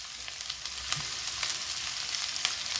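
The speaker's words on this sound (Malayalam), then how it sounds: "സവാള ഇട്ട് കൊടുക്കാം" Sliced onions frying in a pan with a little salt, a soft steady sizzle with light crackles throughout, fairly quiet and close, no voices.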